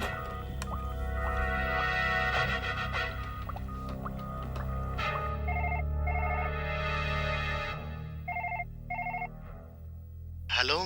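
A telephone rings in short repeated bursts after tense background music fades, fairly faint and in a TV drama scene.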